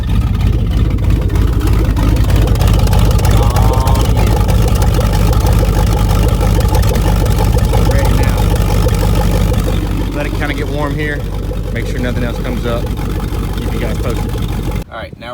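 A wake boat engine runs loudly and steadily at close range after de-winterizing, a deep continuous rumble, with a voice talking over it.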